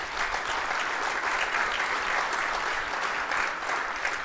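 Steady applause from a symposium audience welcoming a panelist, dense even clapping throughout with no talk over it.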